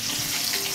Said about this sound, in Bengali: এই যে মাছ ভাজা হচ্ছে এখন